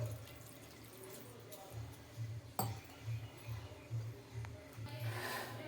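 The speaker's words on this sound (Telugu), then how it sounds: "ఇప్పుడు నేనైతే వాటర్ యాడ్ చేస్తున్నాను." Water being poured into a pan of curry, a soft, burbling trickle with faint clinks that rises and falls in short pulses, fairly quiet and close.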